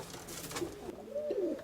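A Crimean pigeon gives soft, low cooing, two short rolling coos close to the microphone in a quiet setting.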